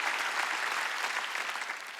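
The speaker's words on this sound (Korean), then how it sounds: "깨달은 사람 박수 치라고요" A congregation at a Wednesday church worship service claps in a continuous, dense burst of applause, steady and moderately distant, with no voices rising above it.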